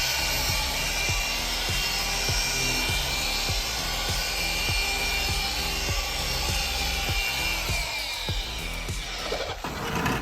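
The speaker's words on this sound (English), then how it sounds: "what I like to do is go back over it with no pressure at all, just to make sure that the dual action is doing its job" A dual action polisher buffs the paint of an OG Toyota Tundra with light pressure, giving a steady close whirring drone with a faint regular ticking throughout and no talk.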